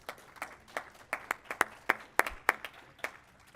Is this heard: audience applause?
yes